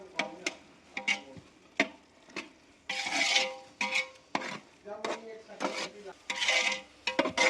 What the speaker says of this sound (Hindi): खोया डल गया है इसमें ये, और ये मिक्स कर देंगे अब इस तरह से।